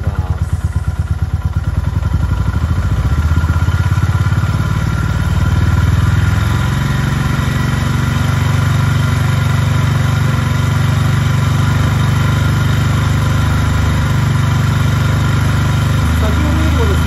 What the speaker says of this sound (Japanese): エンジン回転数上げていきます